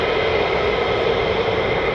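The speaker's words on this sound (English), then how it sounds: "So more F-35s taxiing out, even more and more." F-35 fighter jets taxiing at RAF Lakenheath, a loud steady jet-engine roar that holds constant and continuous throughout.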